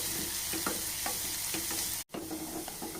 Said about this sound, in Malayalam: ഉള്ളിയൊക്കെ ഒന്ന് മൂത്ത് വന്നിട്ടുണ്ട്